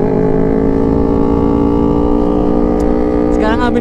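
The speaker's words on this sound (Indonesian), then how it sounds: "biar aku bisa betot gas" A motorcycle engine drones loudly and steadily close by. The rider's voice comes in briefly near the end, over the engine. Nothing in the sound shows a clear surge from the throttle being opened hard.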